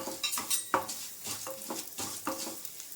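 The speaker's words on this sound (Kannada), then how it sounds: "ಎಲ್ಲ ಲೋ ಫ್ಲೇಮಲ್ಲೇ ಹುರ್ಕೊಳ್ಳಿ." Spices such as cardamom and pepper are dry roasted in a pan over a low flame for bisi bele bath, stirred in soft, repeated scraping strokes with a light crackle, close and unvoiced.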